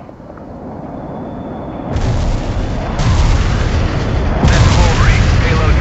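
A laser-guided bunker buster bomb strike in the World in Conflict strategy game produces heavy, rolling explosions that build in waves, deep booming blasts stacking into a continuous loud roar.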